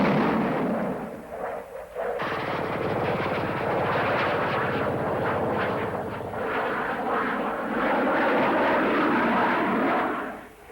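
A SEPECAT Jaguar jet flying low bursts in as a loud, sustained broadband roar after a brief quieter opening, holding steady to the end with no talk.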